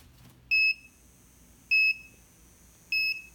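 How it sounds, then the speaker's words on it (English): Homemade alarm clock sounding three evenly spaced high electronic beeps, each about a quarter second long and roughly 1.2 seconds apart, clear and close against a faint steady background hum. "the alarm is going to go off at 8:52, and it's going to last for a full minute"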